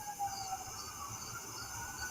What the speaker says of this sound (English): Do I hear ambulances in the back?